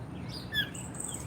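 A small wild bird chirps right beside an outdoor table, a few short high tweets and whistles over a steady low rumble of background noise.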